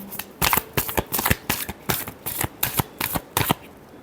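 A deck of tarot cards is shuffled up close, a rapid series of crisp, papery snaps and flicks in an uneven, busy rhythm.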